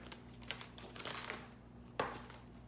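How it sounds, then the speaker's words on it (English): Crinkling plastic wrap being peeled from an iPhone XS Max box in new gold colour, soft rustles with a sharper tearing crackle near the end, close and quiet over a steady low hum. "I'm going to go ahead and just unwrap the box here"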